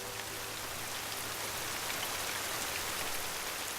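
Heavy rain pours down in a steady, dense hiss with no let-up, a uniform wash of falling water and no other sounds.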